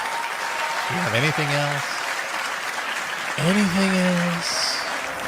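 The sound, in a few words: audience applause at Samsung Unpacked event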